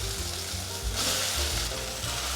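Pumpkin pieces land in a hot pan of stir-fried seasonings in a vegan pumpkin and mushroom dish, sizzling loudly with scraping stir-fry motions throughout the short stretch, and nobody speaks.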